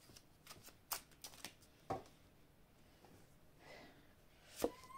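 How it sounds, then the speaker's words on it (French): Oracle cards are being shuffled by hand in a quiet room, giving a handful of short, soft riffling snaps spread unevenly through the stretch and a sharper slap near the end. "je vais vous prendre une carte de conseil des guides ici"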